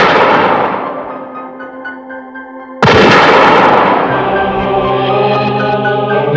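A loud gunshot effect in a Hindi horror audio story, with a heavy booming report and ringing decay, then a second sharp blast that sustains with a droning tonal tail.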